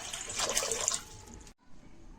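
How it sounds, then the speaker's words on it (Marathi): Water pouring into a kadai (wok) before it is set to heat, a steady splashing stream for about a second and a half, then a sudden stop leaving quiet room tone with a faint trickle. "एका कडाईमध्ये जे आहे पाणी घालून घेणार आहोत"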